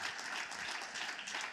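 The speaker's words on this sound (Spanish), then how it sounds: "Le da ese aplauso fuerte." Church congregation applauding a preacher during a sermon, a dense steady wash of clapping that fills the whole moment at moderate level with no talk over it.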